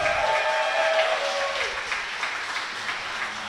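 A crowd applauding and cheering at a Warcraft III esports quarterfinal match, broad steady clapping noise filling the whole stretch with a brief tonal swell early on, no clear talk.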